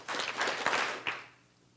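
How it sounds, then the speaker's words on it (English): A young audience at an event claps three times in unison on cue. A few crisp group claps come in quick succession and then fade into a quiet room. "I want you all to clap 3 times."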